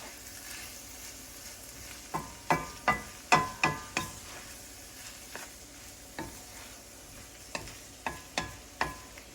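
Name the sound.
crawfish stock added to a flour roux, sizzling and stirring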